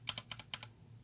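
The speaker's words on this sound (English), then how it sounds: "White switch." A SnowFox 60 percent keyboard fitted with white mechanical switches gives about six crisp, close keystrokes in a quick, uneven burst, quiet and alone.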